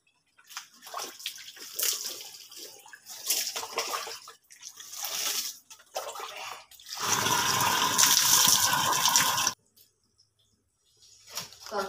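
Cold tap water runs and splashes in uneven bursts, then pours in a strong, steady gush for a few seconds before cutting off into silence and briefly resuming.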